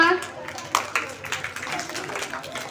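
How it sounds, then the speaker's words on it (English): An audience at a junior storytelling competition at a convent school claps for a young performer. The claps are scattered and moderately close, with a few sharper bursts and faint voices mixed in. "Clap for her."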